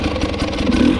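KTM 250 XC-W two-stroke dirt bike engine, a brief loud close burst of raspy mid-pitched engine roar with clattering pulses, no talk.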